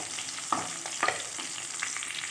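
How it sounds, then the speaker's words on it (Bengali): Fish frying in a pan with green chilies and garlic cloves for a mashed fish dish, giving a steady sizzle with a few sharper crackles and stirring scrapes, close and continuous with no talk. "এর মধ্যে কয়েকটা কাঁচা লঙ্কা আর রসুনের কোয়া দিয়ে দিয়েছি, একটু ভাজা ভাজা হবে"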